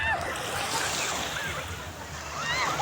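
Surf rolling steadily onto a beach on a family day out, a continuous broad wash with wind buffeting the microphone throughout.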